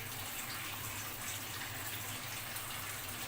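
Water pours steadily and continuously into a pot holding two cups of rice for soaking, a close, even gushing with no voices.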